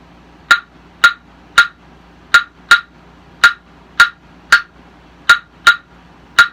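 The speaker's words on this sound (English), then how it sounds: "This is more of a Cuban style clave." Sharp, bright wooden clicks of Cuban-style claves struck together in a repeating syncopated pattern, loud and close with silence between hits.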